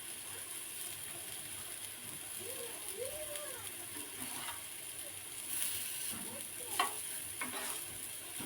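Eggplant slices fry on a tawa over a low flame, giving a quiet, steady sizzle broken by occasional light scrapes and clinks of stirring.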